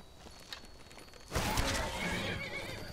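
A horse neighs in the video game Skyrim, the whinny of Shadowmere bursting in loudly about halfway through after quieter hoof sounds and game noise.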